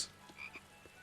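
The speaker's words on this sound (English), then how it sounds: "I hear a frog." Frog croaks from Tales of Berseria, three short ribbits spaced across a quiet ambient game backdrop, faint and a little distant, with no one talking.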